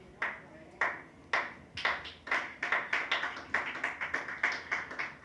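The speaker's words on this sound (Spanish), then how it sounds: "El único que aplaudió fue nuestro hermano Iván." A single person claps alone in a church, a sparse, hesitant run of sharp hand claps that start widely spaced and then quicken into a steady patter, fairly close in a quiet room.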